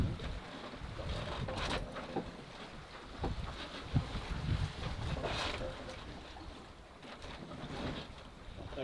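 Wind buffets a sailboat at sea near the equator, a continuous rushing roar with gusty surges and water sloshing against the hull, moderately loud and steady throughout.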